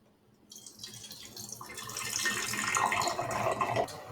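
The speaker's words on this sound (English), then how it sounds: "pour about 100 milliliters of water into the can" Water poured into an empty metal can for a combined gas law demonstration, a steady splashing pour that starts after a brief silence and builds in loudness, close and alone.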